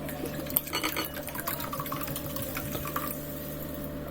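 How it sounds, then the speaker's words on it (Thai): Soda water poured into a dough mixture for Turkish minced-meat börek, giving a soft splashing, fizzing pour for a few seconds, close and quiet over a steady background hum. "ตามด้วยน้ำโซดานะคะ"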